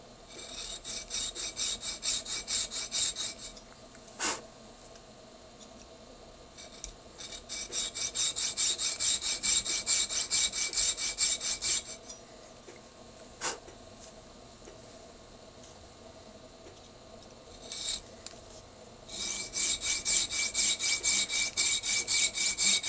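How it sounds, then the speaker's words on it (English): Hand sawing through a dental stone model near a premolar, with steady rasping back-and-forth strokes in three long bursts separated by quieter pauses and a few sharp clicks, close and alone. "You have to keep sawing carefully and follow your lines."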